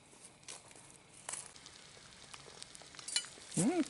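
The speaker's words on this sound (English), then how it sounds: "so we're going to fry up a couple of eggs" A couple of eggs frying over hot forge coals crackle and sizzle faintly with small irregular pops, quiet and close, with a brief louder rustle at the end.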